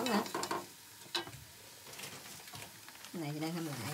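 Food being reheated in a pan gives off a faint sizzle with occasional stirring and scraping, while people talk nearby.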